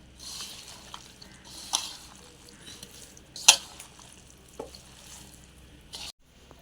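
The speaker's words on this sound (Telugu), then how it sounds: "బాగా కలపాలండి. ముక్కకి ఉప్పు కారం అంతా పట్టేలాగా." Mango pickle pieces are tossed with salt and chili powder, producing quiet, intermittent scraping and a few sharper clinks against the container, with no speech.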